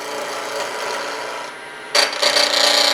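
A chisel riding its bevel cuts wood shavings from a spinning pen blank on a lathe, giving a steady, close, rasping hiss that dips briefly in the middle and then returns louder and rougher.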